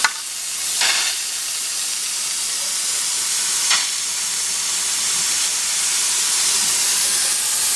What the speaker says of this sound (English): I'm going to take my 10 pounds of pressure off and let the steam come out